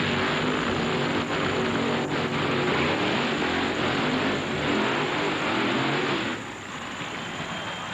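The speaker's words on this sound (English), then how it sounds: "Here comes the burnout." A Castrol GTX Firebird NHRA funny car does a burnout at the Mopar Parts Nationals, a loud, continuous roaring engine and tire noise filling the air, easing slightly near the end with crowd din beneath.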